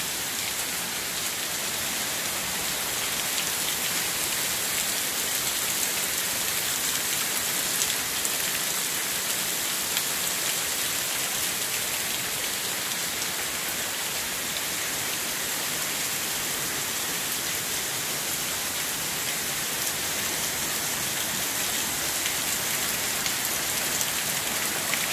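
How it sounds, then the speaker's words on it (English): Very heavy rain falls steadily on a May day around a house with plants and trees, a dense, even roar of water on surfaces that goes on without a break and with no voices. "Very heavy rain on the 1st of May."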